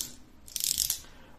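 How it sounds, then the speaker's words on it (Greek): A wind-up toy car being wound by hand gives a short, close ratcheting click burst lasting about half a second. "Το κουρδίζουμε."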